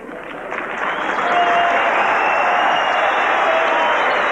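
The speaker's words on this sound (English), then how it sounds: "these friendly footballers from Fiji get a good welcome here from a very damp and chilly crowd in Olympic Park here in Melbourne" A damp, chilly crowd at Olympic Park in Melbourne applauds the visiting Fiji football team, a steady, dense wash of clapping that swells slightly and holds at full strength throughout, with no talk over it.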